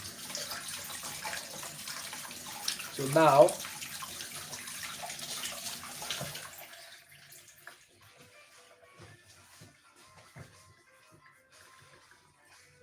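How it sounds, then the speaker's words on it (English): Hot tap water runs in a kitchen sink to rinse a piping nozzle during biscuit baking, a steady splashing rush lasting about six seconds before cutting off, followed by quiet room sounds and a brief spoken phrase. "use hot water to wash my nozzle."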